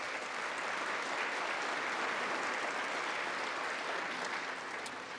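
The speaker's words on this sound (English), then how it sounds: "That's an applause line." Sustained applause from a large audience in a chamber, an even, dense roar of clapping holding steady throughout.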